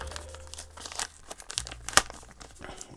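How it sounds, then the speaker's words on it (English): A small plastic bag crinkles and rustles as a booklet is pulled out of it during a DJI Mini 5 Pro unboxing. The irregular crackles are close, with one sharp snap midway. "Let me just take this out of its little plastic bag."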